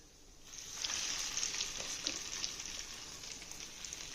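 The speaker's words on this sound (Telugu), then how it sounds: "తాలింపు వేగిపోయింది." Tempering of spices sizzling in hot groundnut oil for a raw tamarind pickle, a soft steady crackle that swells after a moment and holds, close and fairly quiet, with no talking.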